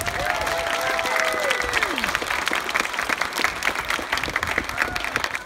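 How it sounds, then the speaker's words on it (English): An audience at a school safety award event gives parents a big, sustained round of clapping, with scattered cheers and a whistle-like rising tone early on, and the applause continues steadily throughout. "How about a huge round of applause?"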